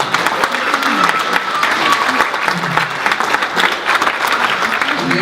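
Audience applause at a keynote address in a church community hall, steady dense clapping from a crowd filling the whole stretch, loud and continuous, with faint voices mixed underneath.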